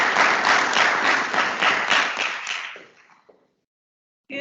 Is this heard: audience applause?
yes